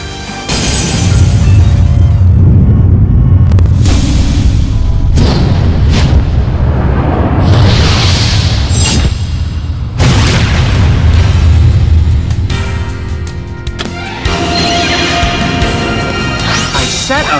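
The fusion summon effect in Yu-Gi-Oh Duel Links plays as loud booming impacts, crashing swells and shimmering synthesized flourishes, with dense music throughout and short pauses between bursts.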